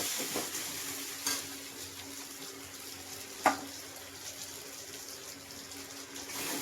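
Ginger, garlic and onion frying with spices in a pan for a goat meat curry, giving a steady low sizzle with occasional stirring scrapes and one sharp clink near the middle; no voices.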